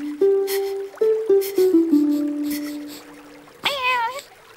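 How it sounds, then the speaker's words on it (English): A cartoon cat gives a single drawn-out meow near the end, loud and close, following a series of short sustained tonal music notes with no talk. "Meow."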